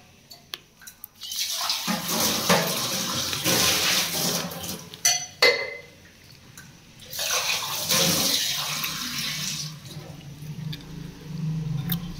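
Water is poured in two separate gushing bursts with a short pause between, close and fairly loud, followed by fainter splashing and trickling, while cooking dal pithi with a pressure cooker.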